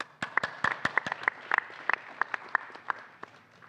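Applause from an event audience after a speaker is introduced at a venture capital panel: sparse, distinct individual claps scattered irregularly, moderately near, with no talk over it.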